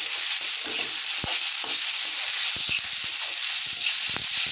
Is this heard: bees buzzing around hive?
no